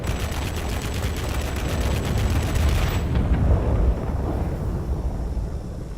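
An M69 gun firing from a plane in World of Warplanes, a rapid continuous rattle over roaring wind and engine noise. The burst stops about halfway, leaving the engine drone.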